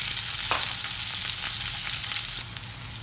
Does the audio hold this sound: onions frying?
yes